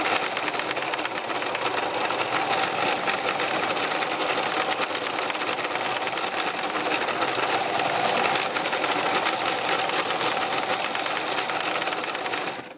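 A sewing machine stitches an autumn landscape in a fast, continuous whirring run, its needle chattering steadily up and down at close range before cutting off at the end.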